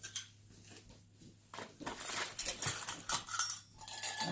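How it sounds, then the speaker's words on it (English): Small metal clinks, taps and scrapes come from handling a little fold-up camp stove, quiet at first and then a close, busy run of metallic rattles. "And a little Fold-up camp fold-up stove."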